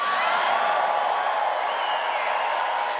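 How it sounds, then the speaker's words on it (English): A rally crowd at a President Trump event cheers enthusiastically, a sustained, dense roar of voices with scattered whoops and a brief whistle rising above it, steady and fairly loud throughout. "Boy, this crowd has a lot of enthusiasm."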